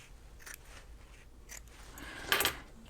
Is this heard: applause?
no